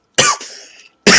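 A single sharp cough, close and loud, trails into a short raspy tail before a second cough starts.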